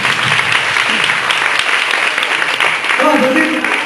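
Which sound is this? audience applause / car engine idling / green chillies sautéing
audience applause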